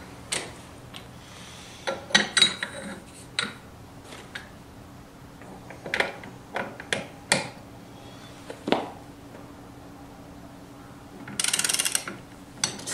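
A ratchet fitted with a 24 mm socket works loose a tight clutch nut on a nitro model engine, giving scattered sharp clicks and ratcheting bursts, close and moderately loud, with a longer buzzing ratchet run near the end.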